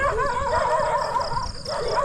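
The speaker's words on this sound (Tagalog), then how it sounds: "Tahol lang tahol." Stray dogs in rural farmland bark and yip, several short, sharp barks with whiny tones close by, heard alone.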